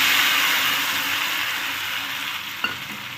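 Ground spice paste fries in hot oil over a low flame, giving a loud, continuous close sizzle with one brief clink of a utensil near the end.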